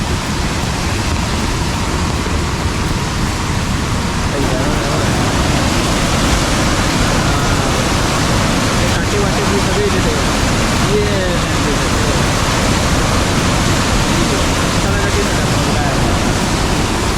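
A flooded river surges during heavy Konkan monsoon rain, its loud, dense roar holding steady and unbroken from start to finish.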